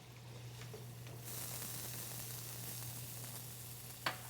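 Finely diced shallots hit hot olive oil in a pan and break into a steady, close sizzle that holds evenly to the end, broken by a brief clatter near the finish.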